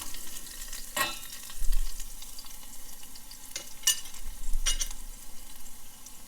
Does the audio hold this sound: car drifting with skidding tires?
no